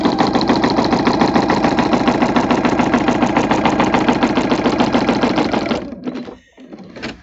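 A sewing machine fitted with a walking foot stitches through a quilt sandwich in a loud, rapid, even chatter that lasts about six seconds, then slows and stops, followed by faint handling noises.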